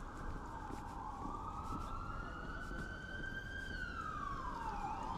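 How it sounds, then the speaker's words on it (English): A police siren wails on a Toronto city street, its tone rising and falling as it sweeps past, moderately distant over steady traffic rumble and street ambience. "I hear a siren."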